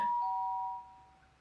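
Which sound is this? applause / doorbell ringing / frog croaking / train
doorbell ringing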